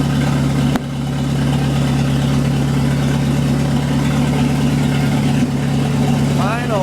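A 1939 Buick engine with worn piston rings and heavy blow-by, running on choke after sitting for 66 years, idles with a steady low drone close by while people talk over it.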